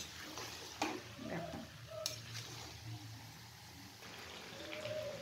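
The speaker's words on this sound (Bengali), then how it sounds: "টমেটোগুলো দিয়ে দিচ্ছি। দিয়ে এবার ভালো করে কষিয়ে নেব।" Chopped tomatoes go into a pan for a chicken curry and are stirred and sautéed. The soft sizzle comes with spoon scrapes and clinks against the pan, fairly quiet and close, with no voices.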